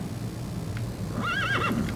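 Horse in Metal Gear Solid V: The Phantom Pain neighing loudly in a rising and falling whinny, close up, over a steady low game background rumble; hoof sounds are not clearly separate.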